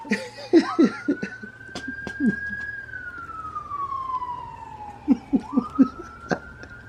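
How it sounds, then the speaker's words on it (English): A police siren wails in a long rising and falling sweep as it passes near an expressway, with voices and laughter breaking in over it. "being hounded by the police sirens"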